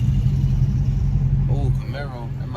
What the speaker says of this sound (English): Oh, Camaro. That might be a RS.